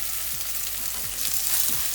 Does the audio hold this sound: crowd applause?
no